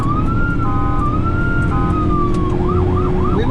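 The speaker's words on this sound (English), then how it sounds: "We'll try different sirens." Police car siren wailing loud and steady during a chase, sweeping in long rising-falling tones before switching to a faster yelping pattern, over a constant roar of engine and road noise.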